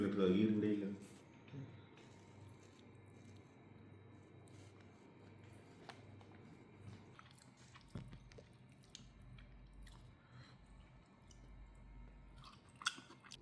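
Someone eats a Kerala pothichoru rice meal opened from a banana leaf, with soft, close, wet chewing and mouth sounds, and a brief voice at the start.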